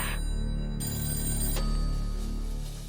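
A telephone rings late at night, its bright electronic bell tone steady and fairly close for about three seconds with a low background hum.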